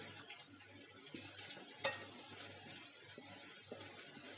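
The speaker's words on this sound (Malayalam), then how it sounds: "ഇതിപ്പോൾ 5 മിനിറ്റോളം നമ്മളിത് വഴറ്റിക്കൊണ്ട് ഇരിക്കുകയാണ്." Onions sautéing in a pan for a Kerala prawns roast, a soft, faint sizzle with occasional light stirring scrapes and one small clink of a utensil.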